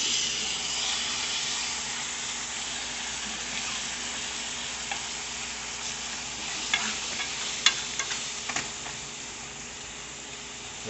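Meat sizzles and fries steadily in a hot pan for lasagna with crushed red peppers, a constant loud hiss broken near the end by a few sharp clinks and scrapes as a fork turns the pieces.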